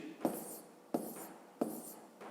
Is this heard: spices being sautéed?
no